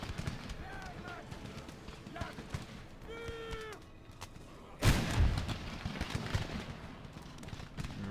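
Infantry volleys in the video game Empire Total War, crackling musket fire and dull thuds at mid distance, with a heavy boom midway, alongside game voices and battlefield din.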